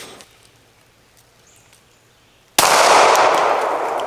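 A single sharp gunshot from a Palmetto State Armory Dagger pistol fired outdoors, loud and sudden after a quiet lull, with a ringing decay.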